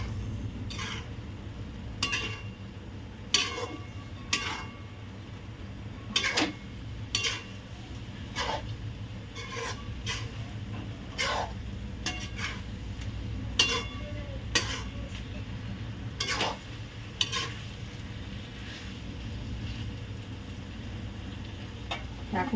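Boiled cluster beans are stirred into gravy in a pan on a gas stove turned up high, with a steady sizzle under repeated metallic clinks and scrapes of the spoon against the pan.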